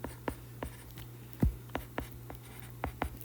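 Handwriting of algebra equations, with a pen scratching and tapping in short strokes and pauses, close and clear, and no speech over it.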